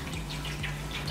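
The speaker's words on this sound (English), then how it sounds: "So I got some vegetable oil, and I'm gonna pour it in halfway." Vegetable oil pours into a cooking pot in a short, steady trickling splash, close and moderately quiet.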